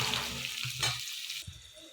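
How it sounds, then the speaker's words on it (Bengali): Potatoes and onions fry in a pan, giving a steady close sizzle with a few scraping stirs for about two seconds, and no voices are heard. "এই পেঁয়াজটা আর আলুটা প্রায় ভাজা হয়ে এসেছে"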